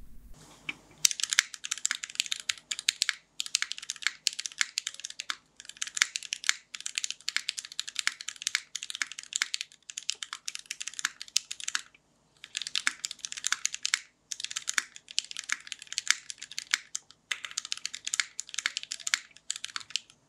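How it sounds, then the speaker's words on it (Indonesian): Typing on a custom mechanical keyboard fitted with GMK Dolce keycaps produces a close, crisp clatter. Rapid keystrokes come in bursts separated by brief pauses. "Dan ya kurang lebih seperti ini typing test yang terakhir."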